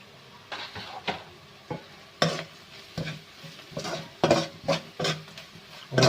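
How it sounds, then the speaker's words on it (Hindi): Spiced white beans with garam masala and salt being stirred in a pot, a soft sizzle broken by irregular spoon scrapes and clinks against the metal, close by with no talking. "और उसको हमने ऐसे चलाया।"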